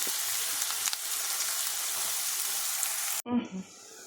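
Sauce sizzles loudly in a hot pan while cooking a ground beef and vermicelli dish, before the ground beef goes in. A steady frying hiss runs for about three seconds, then cuts off abruptly and is followed by a brief low clatter.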